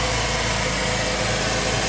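A 2001 Porsche Boxster S flat-six idles steadily up close with its AC compressor engaged, giving a continuous even rumble with a constant mid-range hum and no other sounds.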